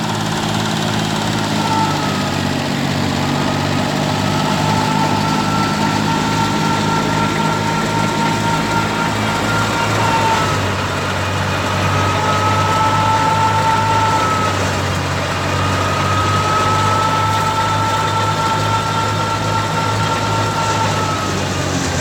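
A 480 tractor engine drones loud and steady while powering a wheat thresher, a continuous near rumble with a slight shift in pitch midway.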